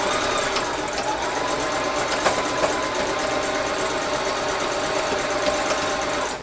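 A sewing machine stitches hair wefts onto a closure wig, a continuous rapid mechanical whirring and clatter heard up close, running steadily throughout with a few faint clicks.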